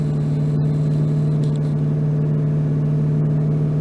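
A classic Ford Mustang engine holds a steady idle-like run at about 2,000 RPM with its oil at 150 degrees, giving a constant, even drone close by with no speech.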